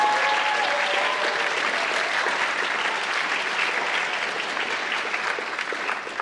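A school band concert audience claps for a clarinet soloist, with dense, sustained applause from a full room that holds steady and tapers slightly toward the end.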